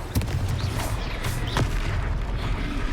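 Spell blasts from the Confringo fire curse in Hogwarts Legacy on the hardest difficulty, a few sharp bursts over a dense, loud game soundscape of rumbling combat.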